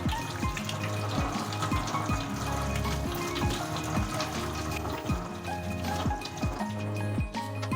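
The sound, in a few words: cold water poured over boiled Hakka noodles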